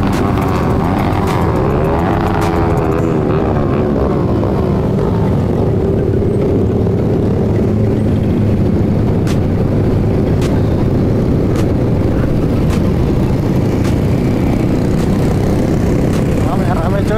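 Loud, continuous engine roar from motorcycles nearby at a night ride gathering, rising and falling as they rev, with crowd chatter and voices mixed in.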